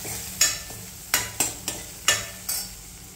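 Garlic and green chili thecha frying in hot oil in a home kitchen pan, with a spoon stirring it in about six short scraping bursts over a soft, steady sizzle, close and moderately loud.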